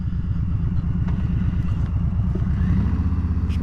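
A Harley Davidson motorcycle is being ridden, its engine a loud, steady, low pulsing rumble that holds throughout with faint rattles on top.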